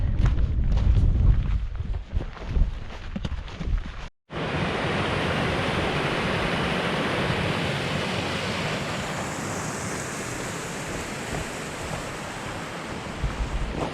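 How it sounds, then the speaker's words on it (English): Small mountain streams and waterfalls rush near a wild camp, a steady broadband roar of falling water. Rough wind and handling noise come first, then a brief dropout, then the rushing continues evenly and fairly loud with no talking. "I don't know how many wee waterfalls here are, but plenty."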